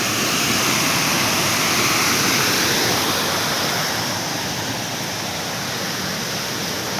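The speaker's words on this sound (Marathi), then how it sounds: "ह्या काहीतरी मिनी धबधबा दिसलो." A small waterfall at Ghonsari in Sindhudurg's Kankavli taluka rushes as a loud, steady broadband roar of falling water, close by and unbroken, easing slightly in level toward the end.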